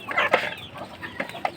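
Farm chickens cluck nearby in short, scattered bursts, several brief calls overlapping in a quiet yard.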